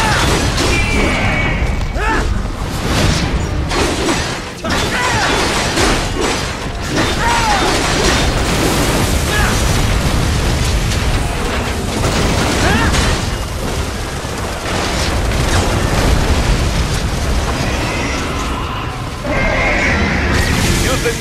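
A plasma cannon fires in the action game Metal Gear Rising: Revengeance amid a loud, chaotic battle mix of blasts, crashes and mechanical noise, with a horse-like whinny and bursts of impacts throughout.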